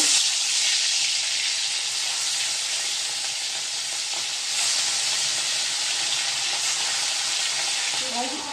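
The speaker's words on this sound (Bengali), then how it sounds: "তো দেখুন তেলটা গরম হয়ে গেছে, এক এক করে মাছ ছেড়ে দেব।" Fish pieces frying in hot oil, a loud, dense and continuous sizzling hiss close by, with faint kitchen clatter and no talking.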